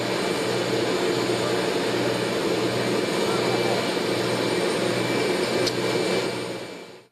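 A Boeing 737-400 of the Indonesian Air Force drones with a steady, loud jet engine roar and whine, continuous throughout and fading slightly at the very end.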